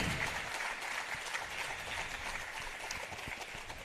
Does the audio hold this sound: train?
no